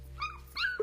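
A pet dog named Tommy, just rescued after falling under a lorry, gives two short, high whimpering yelps close by over a low background hum.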